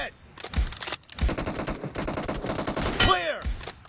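M24 sniper rifle shots in PUBG Mobile crack loudly, with several sharp reports and a tonal ringing sweep near the end over a dense burst of game sound effects, and faint voices under the mix.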